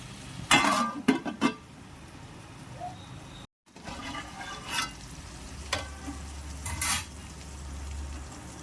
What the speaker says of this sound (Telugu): అన్నిటిని కలుపుకొని టమాటా మెత్తబడేంత వరకు టమాటాని ఉడికించుకోవాలి